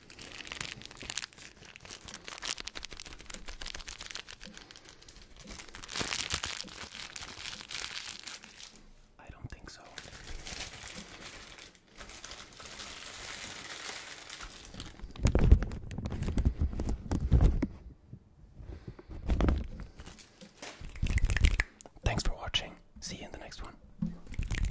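Leftover plastic is crinkled and crumpled up close for ASMR, giving crisp rustling and tearing-like crackles in bursts, louder and denser toward the end, with soft whispering at times.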